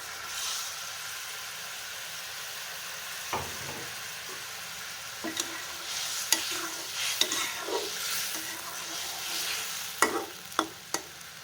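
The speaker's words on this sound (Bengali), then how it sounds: "আর এদিকে আমার ডিমের তরকারিটা দেখেন হয়ে আসছে" Egg curry made with country chicken eggs simmers and fries in a pan. A soft sizzle runs throughout, and sharp spoon scrapes and clinks of stirring come in irregular bursts.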